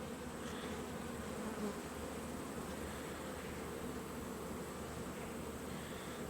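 Honeybees buzz steadily and densely around an open hive while a new queen is introduced, a continuous close drone with no talking.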